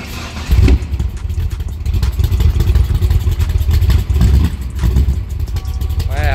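A Factory Five AC Cobra replica with an engine of over 500 hp cranks and catches, then settles into a loud, rumbling idle with an uneven, lumpy beat that runs steadily close by.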